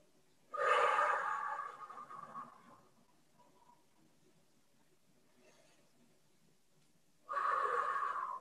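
Loud, forceful breaths during a pilates exercise: one long exhale near the start, a quieter stretch of soft breathing, then another strong exhale at the end, close to the microphone with no talk.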